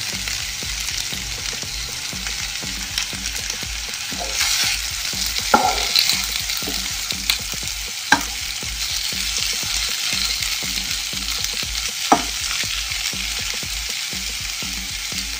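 Curry leaves sizzling in a pan with stir-fried breadfruit, a loud, steady frying hiss with rhythmic spatula scrapes and a few sharp clanks against the pan.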